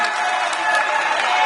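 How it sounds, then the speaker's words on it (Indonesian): Crowd applause and cheering greet Olympic gold medalist Veddriq Leonardo, champion in men's speed climbing, as he enters a room on his homecoming; a steady, dense wash of clapping fills the space, with voices mixed underneath. "Begitu meriah tepuk tangan yang diberikan menyambut"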